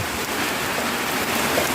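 Rain pours steadily over a home vegetable garden in front of a house, a dense, constant hiss of falling drops without speech.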